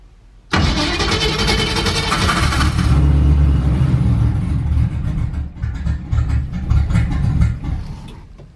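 A car engine with a mechanical fuel pump starts dead cold: a sudden loud catch after a brief pause, a high cranking-and-revving burst, then a rough, uneven idle that settles and fluctuates, close by with no talking.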